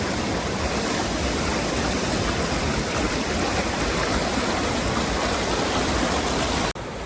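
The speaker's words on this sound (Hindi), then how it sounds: "ये देखिए कितनी तेज से पानी चल रहा है" Fast-flowing Solani river in flood, its water surging with waves and eroding the bank, making a loud, steady broadband rush that stays constant up close and cuts off abruptly at the end.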